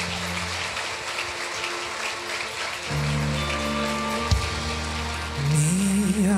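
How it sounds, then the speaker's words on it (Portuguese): A church congregation claps, a dense, rain-like patter of applause that keeps going as instrumental worship music swells in underneath. "Dá um forte aplauso ao Senhor"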